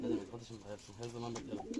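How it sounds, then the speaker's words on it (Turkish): Pigeons in an uncle's loft in Çankırı, Turkey, cooing in soft repeated low calls, with someone talking over them throughout. "Burada benim amcamın kuşları."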